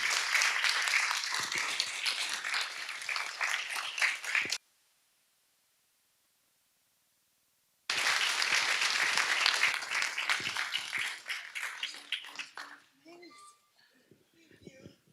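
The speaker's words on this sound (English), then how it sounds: "can we just have one round of applause for all of our award winners together?" A council chamber audience gives a round of applause for award winners, with a burst of clapping, a pause of silence, then a second stretch of clapping that thins out as voices murmur nearby.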